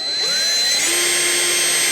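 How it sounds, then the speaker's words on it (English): A power drill whines loudly at high speed, drilling holes in a car bumper to fit a front lip, the motor pitch rising briefly before holding a steady, close whir. "marking where to drill, and drilling the holes"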